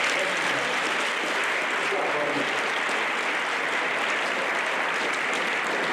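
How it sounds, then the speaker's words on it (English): A crowd at a high school event gives a steady, dense round of applause that holds evenly loud for the whole stretch without pausing. "Give him a round of applause."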